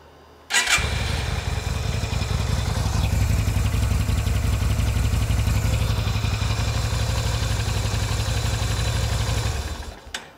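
A 1989 Yamaha Route 66 250cc motorcycle engine cranks and catches abruptly, then settles into a steady, loud, close idle with a slight clatter before cutting off near the end.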